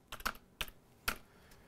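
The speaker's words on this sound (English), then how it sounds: "all we have to do is type in sudo, S-U-D-O, and then whatever command we want to run" Three quick bursts of typing on a computer keyboard as a sudo command is entered, crisp close key clicks in short clusters separated by brief pauses, with no voice.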